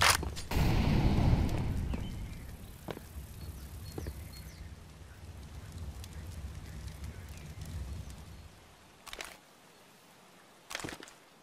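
An incendiary grenade thrown in the game CS:GO ignites with a loud burst of roaring fire that settles into a steady crackling burn, with a couple of sharp distant reports near the end.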